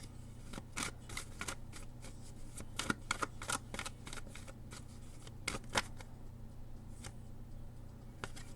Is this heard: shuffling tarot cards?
yes